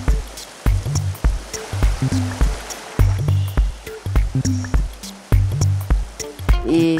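A small river stream flows with a steady broadband rush of moving water, overlaid by repeated low, rhythmic tonal thumps throughout; no one speaks.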